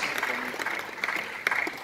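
Audience applause at a comedy event, a short burst of scattered clapping mixed with voices, moderately loud and uneven.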